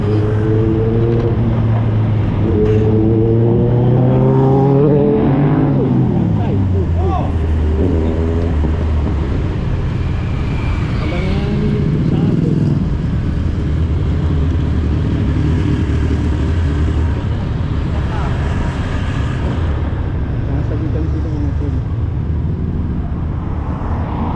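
Large motorcycles ride past with a loud, steady engine roar. It rises and falls in pitch as the big bikes rev and pass close by, and no voices can be heard.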